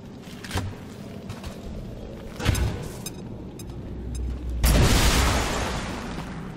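A frag grenade goes off in XCOM 2 with a loud booming blast and rumbling debris tail, preceded by a couple of sharper thumps and game clatter.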